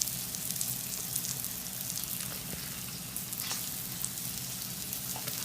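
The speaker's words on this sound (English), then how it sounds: "So we're going to get our blobs of batter" Pancake batter frying on a griddle set to 350 degrees, a steady close crackling sizzle that runs unbroken throughout with small pops, and no voices.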